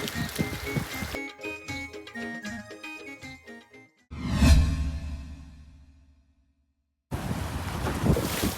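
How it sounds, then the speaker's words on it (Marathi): Strong sea waves surge and crash in a gusty storm wind at a fishing shore during the monsoon, with loud rushing bursts, a heavy breaking impact and a pause before the roar returns. "बघा लाट्या बघा कशा मारतात वडीमध्ये पाणी येते असं वाटतं वादळच सुटले हवा तर भरपूर आहे"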